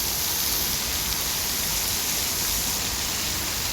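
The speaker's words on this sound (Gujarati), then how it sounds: "અત્યારે વરસાદ પડે છે, તલાવ પાણી ભરાય એવો" Steady morning rain pours down on a rural Gujarati homestead in July monsoon, a dense continuous hiss with no breaks, close and even throughout.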